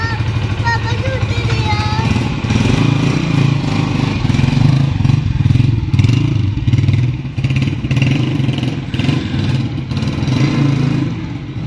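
A motorcycle engine runs steadily and loudly nearby while someone checks the bike, with a low, even drone lasting throughout and people talking over it.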